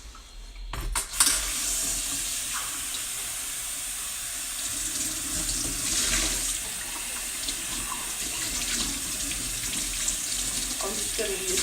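Hot water runs steadily from a tap for a drink of Milo, a continuous broadband rush lasting the whole stretch, close and fairly loud, with no talk over it.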